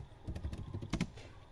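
Quick keystrokes on a computer keyboard as a pyinstaller command is typed into the Windows command prompt, a close, fairly quiet run of irregular clicks with a couple of louder taps near the end.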